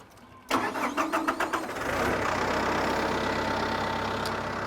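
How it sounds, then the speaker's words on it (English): A starter motor cranks in quick rhythmic bursts for about a second, then a Massey Ferguson 2850E tractor's diesel engine catches and settles into a steady, loud idle. "So if you want to start it up,"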